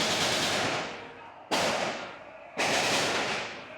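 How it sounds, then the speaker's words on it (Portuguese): Nighttime gunfire in a clash between rival gangs: three sharp, loud bursts, each cracking abruptly and decaying into a long echoing tail, spaced about a second apart. "Impossível dormir com as rajadas de tiros"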